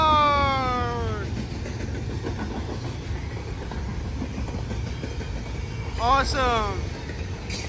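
An NS coal train's distributed power locomotive works hard close by, a steady rumbling engine roar with train horn blasts at the start and again near the end, while someone speaks briefly over it.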